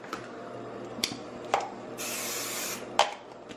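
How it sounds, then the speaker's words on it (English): Adhesive spray hisses onto an embroidery hoop in one sustained burst of about a second and a half, framed by sharp clicks and clacks of handling, with no talking. "this adhesive spray."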